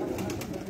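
Pigeons coo on a rooftop in Mianwali, with a soft, low cooing and faint fluttery bursts heard up close in a brief snippet.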